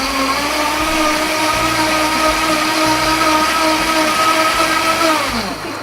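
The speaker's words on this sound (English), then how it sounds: "The Vitamix, when you blend things, will break it down to such a small particle" A Vitamix blender runs steadily and loudly for the whole stretch, its motor whine holding a constant pitch with strong layered harmonics before easing slightly at the end, with no talking.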